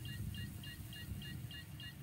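In the video game Star Citizen, a rescue beacon beeps steadily, about seven short, regular pips over a continuous low engine hum.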